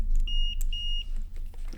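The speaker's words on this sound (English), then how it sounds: "I'm going to put it to continuity, which will go beep" Two steady high electronic beeps from a cheap multimeter on continuity setting while checking audio jack wiring, each about a quarter second long with a short gap, close and clear over low hum.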